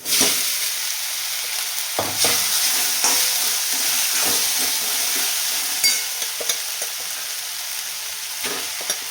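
Sabudana and red chilli powder tipped into hot oil for khichdi, giving a steady close sizzle and frying hiss with occasional stirring scrapes throughout.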